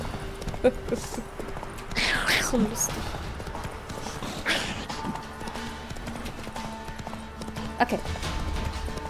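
Horse hooves clopping in a steady gallop while riding in The Witcher 3, a close rhythmic beat under game ambience with a whinny-like swell, while someone talks briefly over it.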